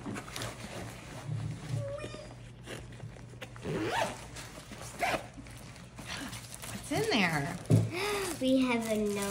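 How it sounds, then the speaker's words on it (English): The front zipper of a Verizon backpack is pulled in several short, scratchy strokes at close range, with people talking and a dog whimpering in the background. "Wow, the front zipper."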